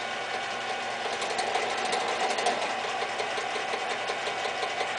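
Minilathe taking a thread-cutting pass with the dog clutch engaged, a steady mechanical whir and gear hum with fine rhythmic ticking, constant and moderately loud throughout.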